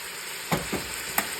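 Green pepper and minced garlic sautéing in a pan for cheesesteak pasta, a soft background sizzle broken by a few sharp scrapes and taps of a utensil stirring, no talk.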